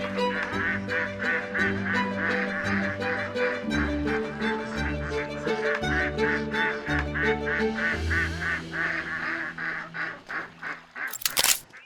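Farm ducks at a duck-raising yard in Andijan quack loudly and close while following their keeper, with rapid repeated nasal calls that overlap in a continuous, rhythmic chorus and brief pauses between bursts.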